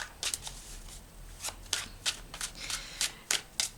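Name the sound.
tarot cards being shuffled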